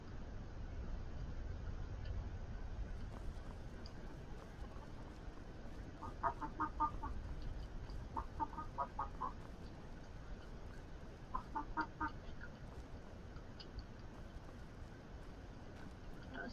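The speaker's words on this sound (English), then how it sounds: "Those chickens." Chickens in the video game Skyrim cluck in a few short bursts of rapid clucks over a faint, steady ambient background.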